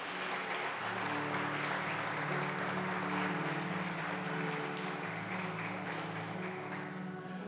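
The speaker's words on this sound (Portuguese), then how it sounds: "dá um aplauso ao Senhor Jesus" A congregation applauds during a church worship service, a soft, distant, sustained patter of many hands under a steady sustained tone, quiet and even throughout.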